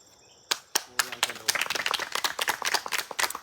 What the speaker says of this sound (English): Kendall exiting to applause from her former tribe